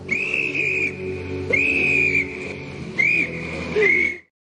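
A person whistles four sustained notes in a repeating pattern. Each note swoops up and then holds steady, with short gaps between them, close and fairly loud over a low background hum.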